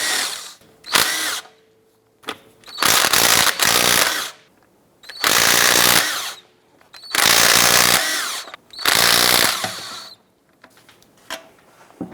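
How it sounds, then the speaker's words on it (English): A power tool spins a 22mm socket to remove lug nuts from the wheel of a 2010-2016 Cadillac SRX, loud close whirring bursts in about five runs of one to two seconds each, separated by short quiet gaps. "let's go ahead and remove these lug nuts."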